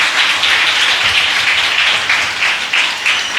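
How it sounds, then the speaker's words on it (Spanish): A church congregation breaks into sustained applause, dense steady clapping filling the space at close range with no talk over it. "dale un aplauso al Señor"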